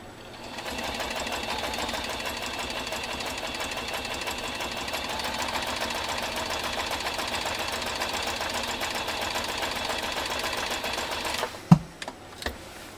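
A New Home 660 sewing machine zigzag stitching through 10 oz leather with orange thread runs as a steady, fast, continuous mechanical whir of needle strokes for about eleven seconds, then stops with a few sharp knocks and clicks.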